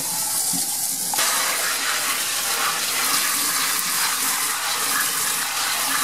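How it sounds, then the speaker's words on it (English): Water from a sink tap splashing onto a piece of projection screen material, a steady broad gush that starts abruptly about one second in after a quieter moment and runs loud and close to the end, with no voices. "I'm going to take it over here to the sink. I'm going to drop some water on it."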